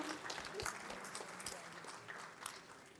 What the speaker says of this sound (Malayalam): ഇന്ന് 91 പിറന്നാൾ ആഘോഷിക്കുന്ന MT സാറിനെ ഒരു നിറഞ്ഞ കൈയടി കൊടുത്തുകൊണ്ട് ഇന്നത്തെ ഒരു സായാഹ്നത്തിലേക്ക് നമുക്ക് ഓരോരുത്തർക്കും സ്വാഗതം ചെയ്യാം.